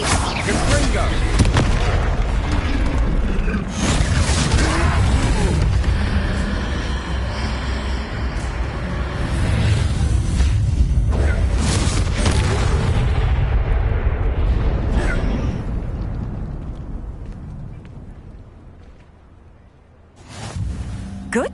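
Loud, rumbling Confringo spell explosions in Hogwarts Legacy during a troll fight, with heavy booms rolling together in a continuous roar that gradually fades toward the end.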